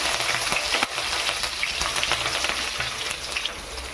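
Ginger, garlic and green chili fry in hot oil for ragi rava upma, a dense, steady crackling sizzle heard close up and alone, with a few sharper pops along the way.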